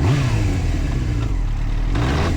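A motorcycle engine pulling under load in second gear, close and loud, revving with a rough, clattery edge over a steady low drone.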